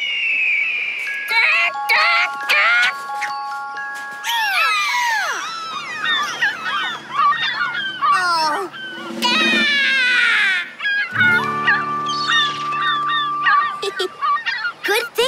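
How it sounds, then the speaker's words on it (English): In an animated children's show, a recorded hawk call plays as repeated shrill, descending screeches, mixed with sustained tones and other bursts of sound. "Here's what a hawk sounds like."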